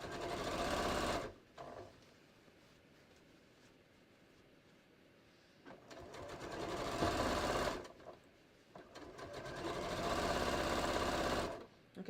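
A sewing machine stitches twill tape or petersham ribbon along a jeans hem in three loud, sustained runs, with a quieter stretch of handling noise between the first and second runs.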